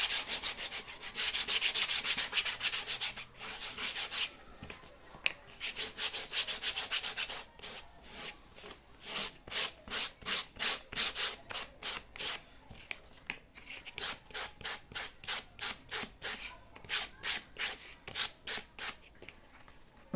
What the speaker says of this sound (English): I want to roughen this surface very well so that it will stay there.